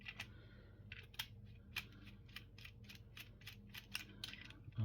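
Wire cutters snip electrical cable to length while a household power point is being replaced, giving a quick run of crisp, evenly spaced clicks and snips, close and fairly quiet, with no talking.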